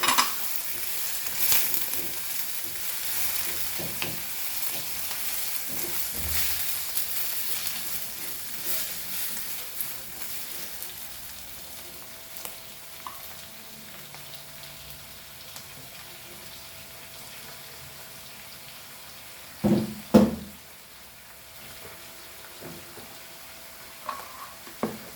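Tomatoes sizzling and frying in a pan while being stirred, a steady soft crackle with occasional louder scraping clatters of the spoon, for a Goan doiee bhaji.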